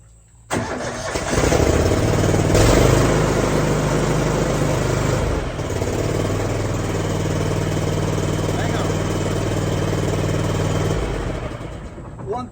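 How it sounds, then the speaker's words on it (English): Lawn mower engine starts and settles into a loud, steady running drone close by for about ten seconds before cutting off, with a voice briefly heard. "Let's cut the grass."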